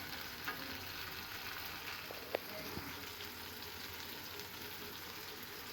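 Tomato masala for egg curry frying in a pan while being stirred, a soft continuous sizzle with faint occasional clinks of the spoon against the pan.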